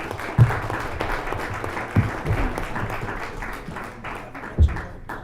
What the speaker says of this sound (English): I believe you deserve a round of applause